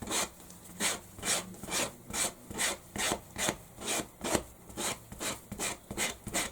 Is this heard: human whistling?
no